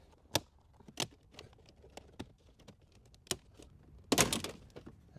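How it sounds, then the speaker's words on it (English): Plastic radio trim panel prying loose from a Hyundai Elantra dashboard: a handful of sharp clicks and snaps spaced across the moment, then a louder cluster of cracking pops as the clips let go, close up and with no talking. "we can remove the radio trim"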